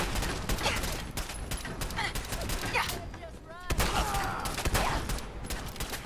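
Rapid bursts of gunfire from the player's weapon in Fallout 4, dense repeated shots in quick fusillades with brief gaps, loud and close, over a busy game soundscape.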